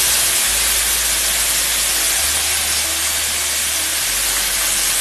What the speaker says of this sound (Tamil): சிம்மிலே வச்சு நல்லா தக்காளி உப்பு நல்லா மிக்சிங்கில் நல்லா வதக்கணும் அந்த எண்ணெயில்